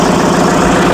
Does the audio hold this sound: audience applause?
no